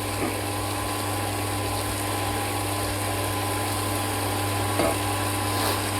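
A wet grinder's rotating drum hums in a steady, even drone while grinding idli dosa batter, with stones rocking inside, continuous and moderately loud with no voices.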